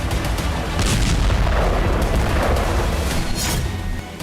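Heavy bombing from US strikes on Houthi sites rolls out as deep, booming blasts with sustained rumble and crackling bursts. The sound is loud and dense and carries on continuously for several seconds.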